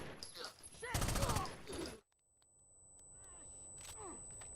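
Rapid bursts of automatic gunfire in a shooter video game, loud and dense for about a second, then fainter scattered in-game sounds, with speech mixed in.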